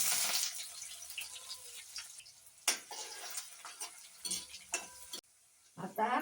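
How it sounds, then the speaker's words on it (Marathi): Sliced onion hitting hot oil gives a bright crackling sizzle with sporadic clinks and scrapes of a spatula, close by, cut by a brief near-silent gap before the frying resumes. "आता घालते कांदा"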